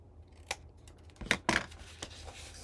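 Heavy 100-pound cardstock cut at the corners, giving a few short, crisp snips: a faint one, then two louder close cuts in quick succession, and a lighter snip after, with no talk.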